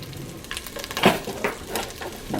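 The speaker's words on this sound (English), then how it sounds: "I'm going to add my onion. Of course, you got to hear that sizzle." Chopped onion sizzles in the hot Instant Pot insert, a soft crackling fry with intermittent stirring clatter and small bursts, fairly quiet and close, with no talking over it.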